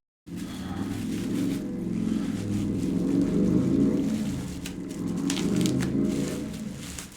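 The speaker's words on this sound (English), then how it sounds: "Don't know if you guys can hear the motorcycles outside" Motorcycles pass outside a room, a muffled mid-range engine roar that swells, fades and swells again, heard through walls at moderate distance.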